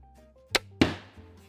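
A sharp snap of a mini crossbow release followed a split second later by a hard metallic thud as the bolt strikes a Mercedes car door, with a brief ringing decay, close and loud.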